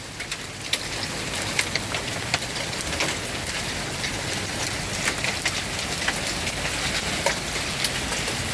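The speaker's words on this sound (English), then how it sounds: "I can't believe I've never seen us get hail." Hail pelting a newly installed roof in a steady, dense patter with scattered sharper clicks of individual stones, continuous and fairly loud throughout, with no talking.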